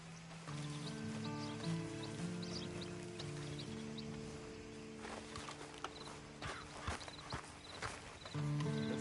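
Horse hooves walk at a steady clip-clop in the video game Red Dead Online, set against a constant droning game soundtrack with faint bird calls and other game sounds.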